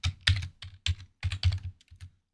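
Rapid bursts of keystrokes on a computer keyboard as a password is typed, close and clear, in irregular clusters with brief pauses and no talking.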